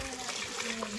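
Chicken broth poured into a pot of lentil soup, a steady liquid splashing that runs throughout the short moment, close and moderately loud.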